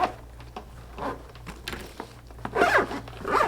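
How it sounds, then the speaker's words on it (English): A soft-sided paintball goggle case being zipped shut around an Empire EVS goggle, a few short rasping zipper pulls close by, the longest and loudest strokes near the end. "Zip it up."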